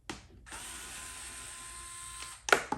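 A power driver backs screws out of a 2019–2026 Chevy Silverado center console, giving a steady close whirring run of about two seconds that ends in a brief clicking rattle.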